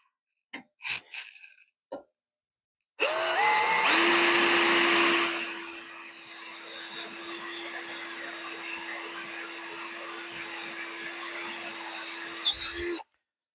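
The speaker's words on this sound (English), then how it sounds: "Drill these other two holes out." A Ryobi cordless drill bores out holes in the lower steering column bearing area of a 1968 Ford F250, starting after a few faint knocks and running as one loud, steady whine that eases into a long, even drilling drone before stopping abruptly.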